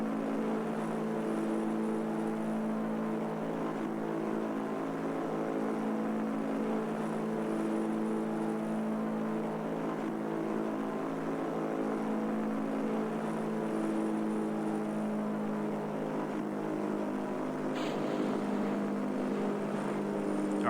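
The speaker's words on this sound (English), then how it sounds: "Man, those engines are loud." Loud, steady engine drone of a big plane in a space program video game, a continuous even roar with tonal hum lasting throughout, no speech.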